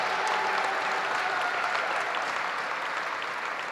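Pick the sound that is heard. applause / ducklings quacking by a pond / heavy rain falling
applause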